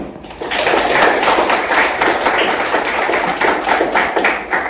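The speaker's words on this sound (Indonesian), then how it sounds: "Ya, tepuk tangan dulu." A classroom of students in a Catholic religious education lesson claps hands together, a loud, fast, even burst of clapping that starts after a brief pause and fills the rest of the moment.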